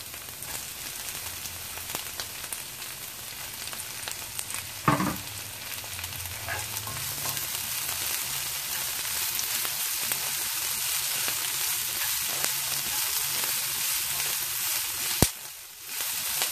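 Vegetables for a vegetarian lo mein, including cabbage, fry in a pan with a steady dense sizzle throughout, broken by a sharp clack of a utensil near the start and another near the end, with no voices.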